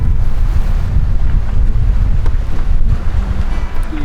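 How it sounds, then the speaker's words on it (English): Loud, steady wind rumbles and buffets the microphone aboard a Seawind 1600 catamaran sailing downwind, with water rushing beneath and no voices. "The wind picks up, it goes."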